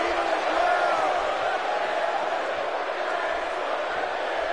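A large Philadelphia wrestling crowd at a pro wrestling pay-per-view roars in a steady, dense wash of cheering throughout, with a commentator's voice mixed in.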